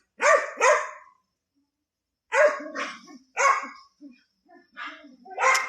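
Several dogs bark in a few sharp, close bursts, some doubled, with gaps of silence between them and a faint yip or whimper near the end.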